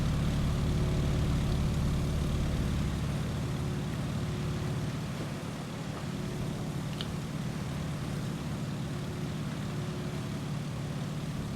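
A Stearman biplane's propeller engine drones steadily in Microsoft Flight Simulator, a loud, even hum with a low throbbing beat that holds unbroken throughout, no voices.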